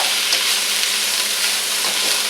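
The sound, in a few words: stir frying onions and green peppers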